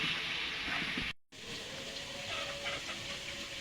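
Potatoes fry in hot oil with salt and turmeric, a dense steady sizzle filling the pan, briefly cut off for a moment before resuming at a similar close, even level.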